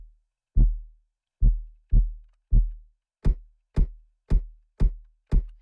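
Synthesized kick drum passed through a resonator bank driven by an audio follower: four booming low thumps spaced about half a second apart, then five sharper, brighter hits with a crisp top end, each decaying quickly, with no voice.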